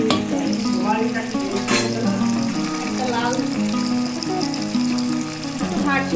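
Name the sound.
paneer frying and stirred in sunflower oil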